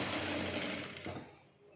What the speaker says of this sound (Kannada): ಈಗ ನಾನು 1/2 ಇಂಚಸ್ಗೆ ಸ್ಟಿಚ್ ಹಾಕೊಬರ್ತೀನಿ.